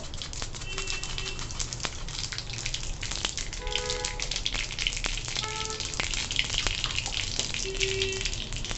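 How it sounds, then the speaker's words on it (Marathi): Mustard seeds and asafoetida sizzling in hot oil for a tempering, a dense, continuous crackle with rapid popping seeds and a few faint clinks of utensils, heard up close with no speech. "तेल तापल्यानंतर थोडीशी राई टाकायची"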